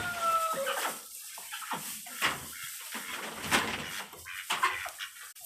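Hens cluck and chatter in a straw-floored coop, a scattered run of short calls near and far with a brief higher squawk early on and light rustling between, no speech.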